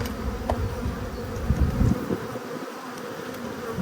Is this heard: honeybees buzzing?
yes